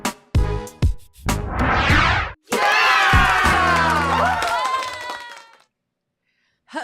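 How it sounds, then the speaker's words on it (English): Canned applause and cheering played as an effect on a pop culture show, arriving in loud bursts between talking voices before cutting off into silence. "I thought I had the applause going"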